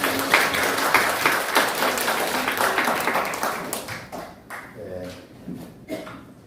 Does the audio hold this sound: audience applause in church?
yes